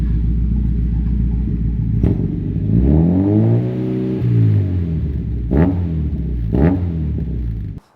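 Mazda MX5 NB track car with a custom-built exhaust revs above idle, its loud, close engine note rising and falling in a long swell, followed by two short sharp blips; no one speaks.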